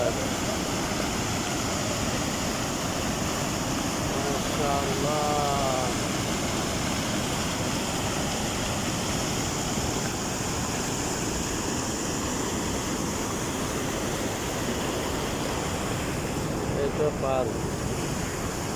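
Floodwater rushes through a wadi in Oman after heavy rain, a strong, unbroken roaring current with wind buffeting the microphone, and someone speaks briefly over it.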